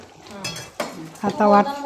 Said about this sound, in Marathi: कांदा आणि खोबऱ्याचा वाटप ता घालूया